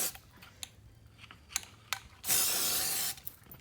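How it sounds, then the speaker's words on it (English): A few faint clicks and taps, then one sustained hissing blast of spray paint from a can onto wood beads, lasting under a second, close and fairly loud. "And you just spray them."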